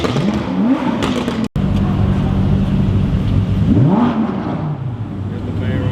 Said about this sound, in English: Here's the Veyron coming through.